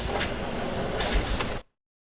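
A video game door swings open with a steady mechanical rumble and scrape lasting about a second and a half, then cutting off sharply into silence.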